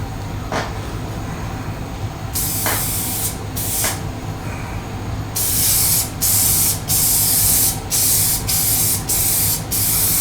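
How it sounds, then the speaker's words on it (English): Repeated hissing bursts from a spray paint can, short at first, then a series of longer sprays with brief pauses against a low background rumble. "I've been painting crap with spray paint since I was a kid"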